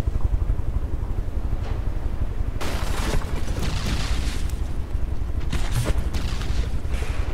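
Belt-fed guns in the naval combat game From The Depths fire rapid bursts over a constant low rumble, and heavier volleys build in the second half. No speech.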